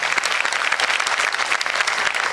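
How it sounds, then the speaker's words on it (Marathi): Applause at a teachers' award ceremony: a dense, even burst of many hands clapping together, loud and sustained through the whole moment. "सगळ्यांनी जोरदार टाळ्या वाजवूयात."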